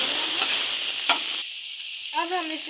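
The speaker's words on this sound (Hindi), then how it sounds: "यहाँ हमारी लहसुन सोते हो गए थे और अब हमने इसमें अपना चिकन ऐड किया है।" Chicken pieces sizzle loudly in hot oil with crushed garlic, with steady frying hiss close up and a brief stir partway through, and no talking.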